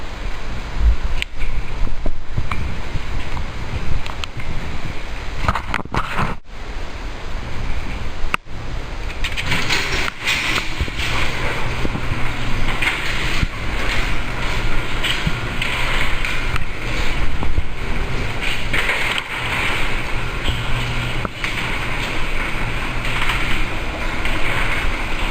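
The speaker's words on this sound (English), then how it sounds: "This is a compressor on the left elevation of the property, currently running" Outdoor air-conditioning compressor unit running beside a house, a steady mechanical hum with broadband whooshing and wind buffeting, continuous for the whole stretch, a few clicks early on.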